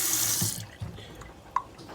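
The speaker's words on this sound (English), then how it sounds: "Cold, lukewarm water just to get that baking soda and salt off." Cold to lukewarm tap water runs into a kitchen sink to rinse baking soda and salt off sterling silver hollowware and flatware, a steady close rush with a couple of brief clanks of metal near the end.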